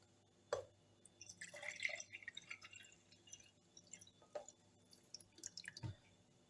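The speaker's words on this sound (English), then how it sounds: "So I'm going to be pouring the juice in a jar." Orange juice poured into a jar while making homemade orange marmalade, heard as scattered drips and a soft, intermittent trickle of liquid with a few light clinks of glass, quiet and close.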